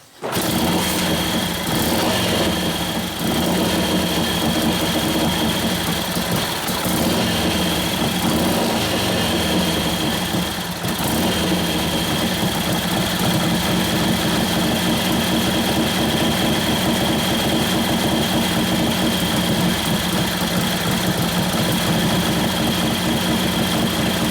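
A 1941 Harley-Davidson WL 45 flathead stroker engine, a 56ci build, idles steadily and close up for the whole stretch, a continuous loud mechanical chug with a faint hitch partway through.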